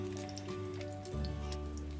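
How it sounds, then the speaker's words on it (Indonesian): A half-cooked sunny-side-up egg fries in a pan with a continuous soft sizzle and crackle, close and steady under a faint hum, with no talking. "Di sini saya akan menggoreng telur mata sapi setengah matang."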